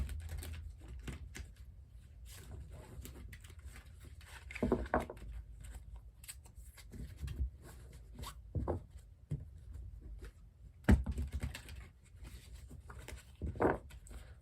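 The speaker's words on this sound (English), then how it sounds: "I'm going to do some shuffling, of course." Soft, irregular papery taps and riffles repeat close by, with brief louder snaps of tarot cards being shuffled against a quiet background.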